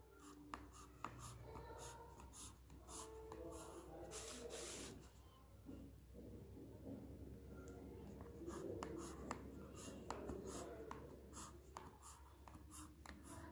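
A pen drawing lines on paper while a line graph is plotted for a class 5 maths lesson, with steady scratchy strokes and short taps running throughout at close range, no talking.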